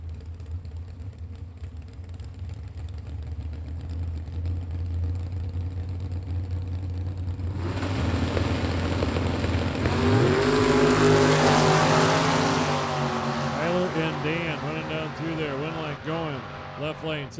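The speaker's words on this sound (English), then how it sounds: "The VP Racing Fuels, Harlan Sharp Camaro in the left-hand lane for Sheridan, Michigan racer" At a drag strip a Camaro and a Mustang launch side by side. Idling engines surge into a loud roar, and rising and falling revs sweep past as they run down the strip, while an announcer talks over the noise.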